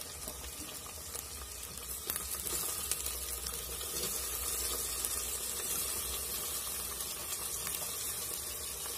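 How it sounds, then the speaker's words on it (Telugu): Tomatoes frying in a pan for egg biryani, a soft continuous sizzle and hiss held at an even, fairly quiet level throughout, with no talking. "బాగా టమాటాలు మగ్గేదాకా బాగా వేయించుకోవాలి."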